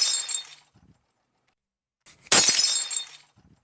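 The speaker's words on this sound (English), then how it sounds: "This is indeed glass breaking." Glass breaks in a short, bright shattering crash, heard twice with a pause between, the second burst louder with tinkling fragments trailing off, played back alone without talk.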